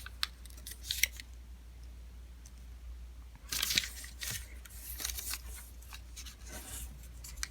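Paper being folded and creased for an origami flasher model, close quiet rustles and crisp crinkling, with a longer scraping crease sound in the middle.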